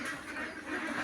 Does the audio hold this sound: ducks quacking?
yes